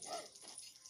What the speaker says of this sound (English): My God, I got killed by a dog